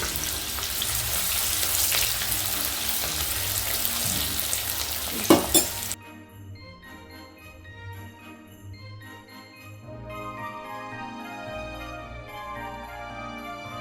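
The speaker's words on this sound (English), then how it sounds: "Now that our oil is hot, let's add in our diced onions. You'll hear that wonderful sizzle right away." Loud, steady sizzling and crackling of diced onions frying in hot oil for several seconds, cut off abruptly midway, followed by quieter kitchen sounds and light tinkling.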